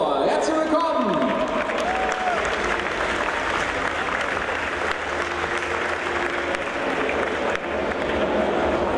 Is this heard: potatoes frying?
no